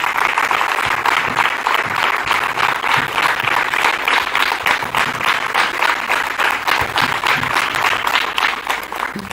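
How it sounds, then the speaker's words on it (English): Loud, continuous audience applause at the South Asia Learning Summit 2026 at ISB, with many hands clapping steadily to welcome a speaker and no talking over it. "I request everyone to once again welcome him with a huge round of applause"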